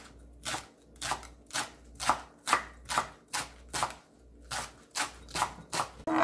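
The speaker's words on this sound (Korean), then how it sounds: "콩마늘 2개 송송 썰어줍니다." Two garlic cloves being thinly sliced with a knife on a board while making chive and onion kimchi: about a dozen crisp, evenly spaced cuts, close and fairly quiet, with no speech.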